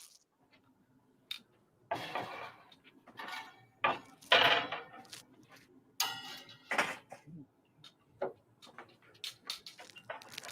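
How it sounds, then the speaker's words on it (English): Cutting board grabbed and handled beside a smoker at an outdoor carnivore cook-off, with scattered clatters and knocks of board and utensils, close by, separated by brief pauses. "So I got to grab the cutting board here."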